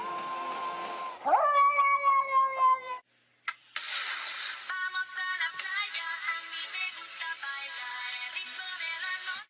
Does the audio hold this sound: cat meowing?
yes